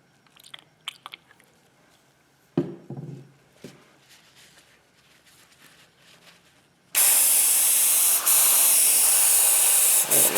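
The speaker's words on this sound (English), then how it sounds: "I'm going to keep spraying this so I don't really see color anymore" An airbrush sprays water through its cup to flush out leftover paint. Scattered quiet clicks and taps come first, then a loud, steady hiss of spray bursts in and holds for the last few seconds.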